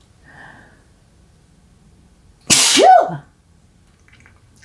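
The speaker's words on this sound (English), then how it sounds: "That was a sneeze that came all the way from my toes." A single loud, explosive sneeze bursts out close up, followed by a short breathy exhale; otherwise near silence.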